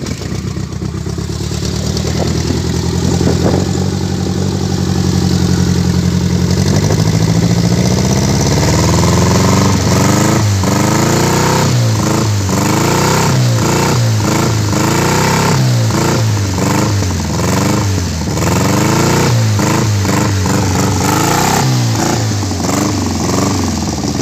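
An off-road cross buggy with a VW AP 1.8 engine and straight-pipe exhaust, still cold, roars loudly up close, its raw unmuffled note rising and falling through repeated sharp revs and throttle blips over a rough idle.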